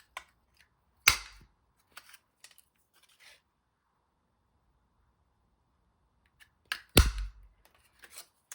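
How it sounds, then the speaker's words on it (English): A 3/4 inch circle punch cutting paper for a mini album, two sharp snapping clunks several seconds apart with faint handling noises in between. "we're going to use a 3/4 inch circle punch"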